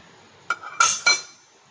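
A metal wok (kadhai) is set down in a kitchen, giving a quick series of three bright metallic clinks and clanks in close succession, close and fairly loud against a quiet room.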